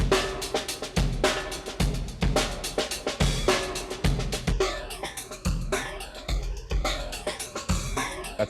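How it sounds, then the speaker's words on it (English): A phaser audio effect on a rhythmic loop of punchy hits, its swirling sweep growing more pronounced as the steady pattern repeats at moderate volume, with no one talking. "That's a phaser."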